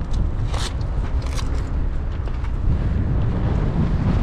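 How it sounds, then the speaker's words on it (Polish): Strong wind buffets the microphone outdoors beside a road, a steady broadband roar lasting the whole stretch with no voices. "Uuu, wieje."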